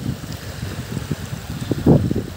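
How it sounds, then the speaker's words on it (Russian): A remote-controlled Skat 700 boat runs across wavy water in wind, giving a steady low motor drone with gusty rumble and splashing, louder toward the end, with no talk. "а катер едет, держит прямой ход даже на таком волнении сам."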